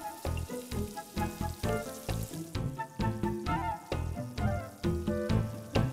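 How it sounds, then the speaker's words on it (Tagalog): Sweet potato burger patties frying in a pan, a dense crackling sizzle with rapid pops and spatter running steadily throughout, close and fairly loud with no voices. "Ready na siya for frying."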